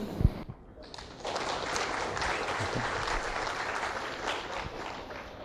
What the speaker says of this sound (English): can we have a big round of applause for Joe Buski?